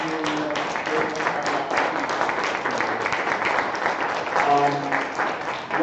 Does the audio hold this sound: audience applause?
yes